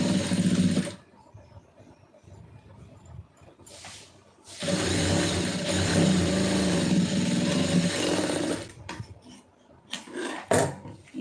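Close, loud runs of a sewing machine stitching a triple-folded hem: a short burst, a pause with faint handling, then a long steady whirring run of several seconds, followed by brief stops and starts.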